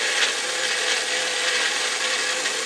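A Magic Bullet blender grinds steadily at close range, a dense, even whir that holds for the whole stretch with no voices over it.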